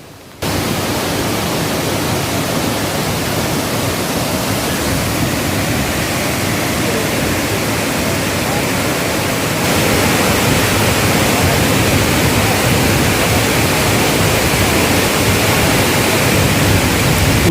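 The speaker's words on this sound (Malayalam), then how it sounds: "ഉദ്ദേശം ഒരു 80 അടി 100 അടി ഹൈറ്റിൽ നിന്നാണ് ഈ വെള്ളം ഇങ്ങനെ താഴോട്ട് വീഴുന്നത്." Areekkal waterfall sends water down from a height of roughly 80 to 100 feet, a loud, unbroken roar close by with no voices, growing slightly stronger partway through.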